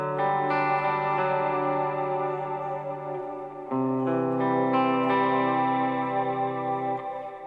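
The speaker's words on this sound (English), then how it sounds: "Then we'll turn on some reverb." An electric guitar played through a reverb pedal on a worship pedalboard rings out in sustained, shimmering chords. Two main strums each wash into a long reverberant tail, with no talk.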